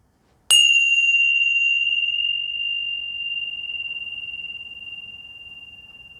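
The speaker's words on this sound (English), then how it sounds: "Follow the sound of the bell all the way back to the stillness." A meditation bell is struck once, sharp at the start, then rings as one long clear tone that fades slowly and stays audible through the whole stretch, alone in a quiet room.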